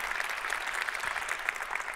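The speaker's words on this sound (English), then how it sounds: "let's give a round of applause for all our participants and speakers who've made this" Sustained applause from a conference audience for participants and speakers, steady clapping without pause, moderately loud and fairly close.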